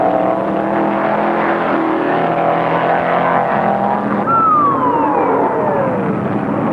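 Stock race cars in the 1974 Permatex 200 roar past in a steady, loud engine drone, with a rising-then-falling whine as one car sweeps by near the end.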